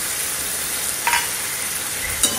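Water mixed with turmeric, salt, chili powder and a little sugar goes into frying potato and eggplant, making a steady close sizzle with a couple of brief utensil clinks.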